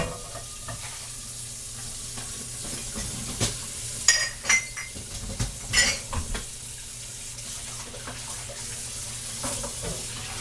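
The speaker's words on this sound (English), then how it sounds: "I'm going to rinse this pan and I'll make my rice in it" A pan being rinsed at a kitchen sink after cooking, with running tap water splashing and a few louder clanks and scrapes in the middle, no talking.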